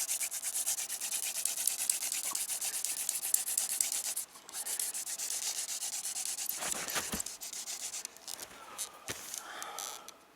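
A wooden hand drill spun between the palms for a friction fire in winter gives off a steady, close, faint rubbing and scraping, with brief pauses and rustles near the end.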